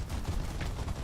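Distant video game gunfire, a muffled rumble of rapid shots heard for about a second, fairly quiet and with no voices.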